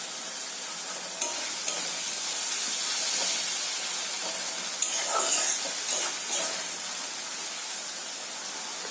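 Slit green chillies dropped into a spice masala frying in oil with a little water for jackfruit and prawn curry, a steady close sizzle with stirring scrapes and occasional sharper spits.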